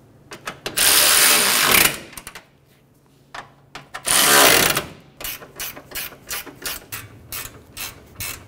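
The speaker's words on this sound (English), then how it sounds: "Go around and snug down all of the bolts." Ratchet wrench snugging down bolts on the AC condenser of a 2007-2011 Toyota Camry 2.4L I4: rapid clicking bursts, two long loud runs and then shorter quick strokes, close by with no talk.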